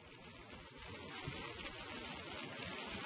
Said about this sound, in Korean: 시간이 갈수록 바람이 거세지면서 빗방울도 붉어지고 있는데요